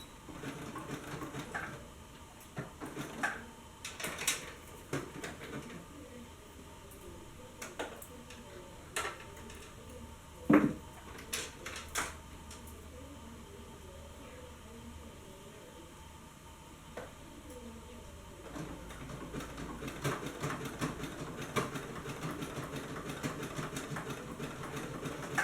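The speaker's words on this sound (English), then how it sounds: "we're just going to go all the way around and sew the legs together" Domestic sewing machine stitching around the legs of leggings made from a shirt, a steady rapid mechanical rattle running in bursts and pauses throughout, with occasional louder clicks and handling knocks.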